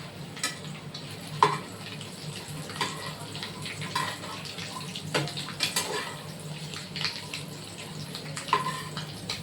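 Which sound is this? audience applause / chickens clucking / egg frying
egg frying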